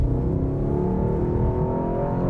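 A 2024 Mercedes-AMG S63 accelerating hard in sport drive mode, heard from inside the car. A loud, steady engine roar and whir builds smoothly with a rising pitch, and no one speaks.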